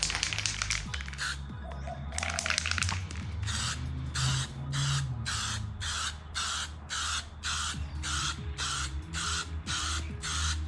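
Aerosol spray paint hisses in a rapid series of short bursts as a second coat goes onto a 2019 Honda CB300R motorcycle tank cover, close and steady, with brief gaps between each puff.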